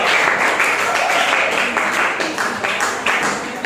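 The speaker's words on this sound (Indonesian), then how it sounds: "kalau begitu tepuk tangan untuk kelompok itu." A classroom claps for a student group, brisk uneven clapping from many hands filling the room, fairly loud and continuous with small bursts throughout.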